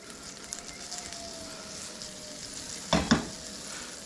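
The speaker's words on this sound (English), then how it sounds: "You can see it immediately starts foaming and melting, but it's not browning yet" Butter melts and foams in an aluminum pan with a soft, continuous close sizzle, broken by a couple of sharp clinks of a utensil near the end; no one speaks.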